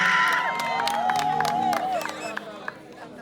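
A crowd at a live music show in Rwanda cheers, whoops and claps steadily, and a voice carries over the noise before it tapers off near the end.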